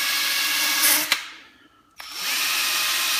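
A power tool regrains a new pinball ball guide with a steady high whine that stops briefly and then starts up again, loud and close, with no talking.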